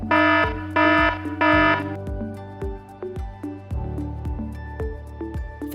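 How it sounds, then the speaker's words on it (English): An electronic buzzer module on an educational kit, set off by a motion sensor, gives three loud, harsh buzzing bursts, then a run of shorter, evenly spaced electronic beeps and clicks. "motion sensor plus buzzer"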